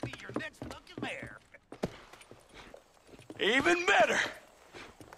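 Horse hooves in Red Dead Redemption give a few light clops between bursts of speech, brief and close, with voices dominating and a louder exclamation near the end.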